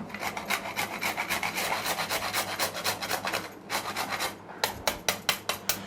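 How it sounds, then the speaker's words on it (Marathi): Nutmeg grated by hand over a sweet filling, a steady run of quick rasping scrapes that pauses briefly, then resumes as slower, sharper strokes, close and alone. "हे जायफळ आहे ना ते यावरती आपण किसून घालूया"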